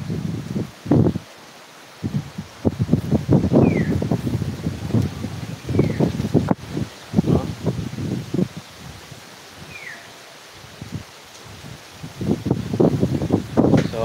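Wind gusts buffet the microphone and rustle winged bean plants and leaves in bursts, with brief quieter pauses between the strong swells.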